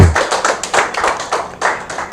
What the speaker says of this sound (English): A round of applause to the team leader and the team.